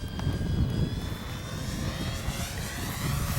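A Dynam P-61 Black Widow RC model plane flies with a steady, buzzing electric-motor drone and a faint high whine. It stays fairly close and even in loudness, with no speech over it.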